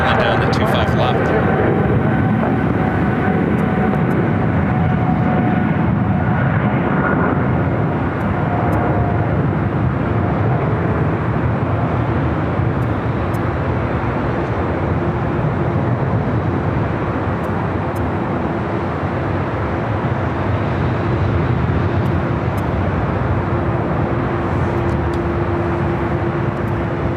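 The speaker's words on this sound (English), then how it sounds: "Cargo King, a 777 freighter, rocket rolling down to 25 left." A Boeing 777 freighter rolls for takeoff on runway 25 left at LAX, a broad, distant jet roar building and sustained beneath continuous talk.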